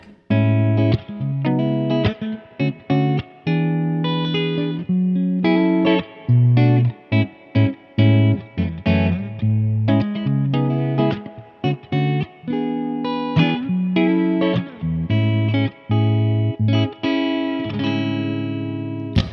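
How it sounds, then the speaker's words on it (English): A clean electric guitar plays through the clean channel of a Mesa Boogie Express Plus 5:25 tube amp, with plucked notes and chords ringing out in an uneven rhythm, loud and close. "So here's what the clean channel sounds like."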